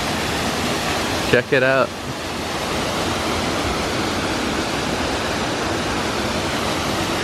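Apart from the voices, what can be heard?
small waterfall in El Yunque rainforest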